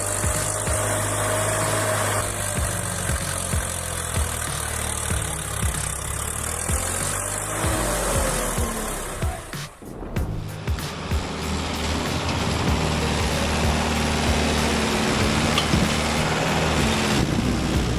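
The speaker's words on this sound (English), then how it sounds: "With a steady hand and a tough engine, the Swaraj 744F finally crawled out of mud sticky as glue." A Swaraj 744F tractor engine labours to pull out of sticky mud, a loud steady diesel drone that dips briefly in the middle before revving back up strongly.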